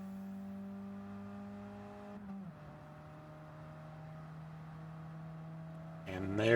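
A race car in Gran Turismo 7 cruising toward the finish line, a steady droning engine hum that drops in pitch midway, then a brief louder burst at the end.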